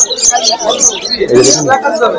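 Many lovebirds, blue and normal rosy-faced, chirp and tweet busily and continuously, close by at the Uluberia pet market, while people talk over the chatter.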